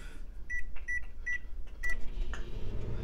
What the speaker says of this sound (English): Then you just put it in here. In the microwave.